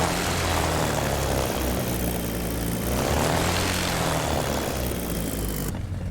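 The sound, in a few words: Bf-109 engine throttling up, DCS World video game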